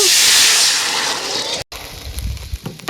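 Half a cup of vinegar hits a heated pan for dried anchovy pickle, bursting into a loud steamy hiss that fades, followed by quieter bubbling and clatter after a brief cut.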